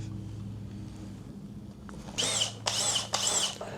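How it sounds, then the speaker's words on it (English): Power drill boring holes into the frame of a crazy cart in a workshop, three loud bursts of high whining drilling separated by short pauses after a quieter lead-in. "Then we gotta drill those spots right there."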